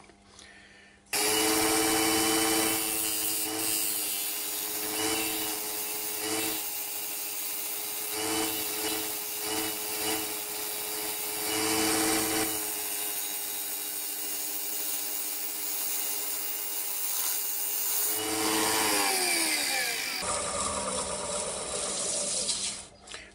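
Woodturning gouge cutting a large walnut bowl on a lathe, a loud continuous rasping hiss over a steady motor hum, with changing tone as the tool sweeps, then the lathe winding down; no speech.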